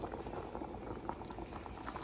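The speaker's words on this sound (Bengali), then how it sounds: "সব ফুটে উঠেছে খিচুড়ি।" Khichdi of rice and dal boils in a covered pot, a steady close bubbling and soft popping of thick liquid, continuous and even, with no talking.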